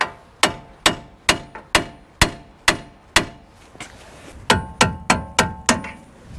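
Sharp metallic hammer strikes ring out on a 2014-2018 Chevy Silverado tie rod end during lower ball joint replacement, about thirteen evenly spaced close blows in two runs with a short pause between.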